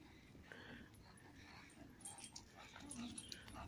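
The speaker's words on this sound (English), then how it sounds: "The dogs." A dog whimpers and yips faintly amid steady outdoor background noise at a marina at sunset, short soft sounds scattered across a few seconds.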